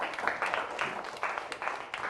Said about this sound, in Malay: Tepuk tangan untuk Fatihah.